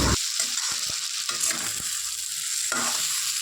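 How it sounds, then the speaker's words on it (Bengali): Kochur loti (taro stolon) fries with shrimp in a pan, giving a steady hissing sizzle broken by a few sharp knocks and scrapes of stirring, close and moderately loud with no talk. "তো ভালো করে একটু ভেজে নিচ্ছি যাতে না চুলকোয়।"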